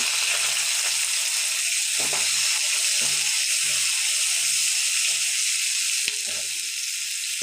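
Onions fry in oil with a steady, bright, crackling hiss while soft scraping stir sounds tap faintly underneath.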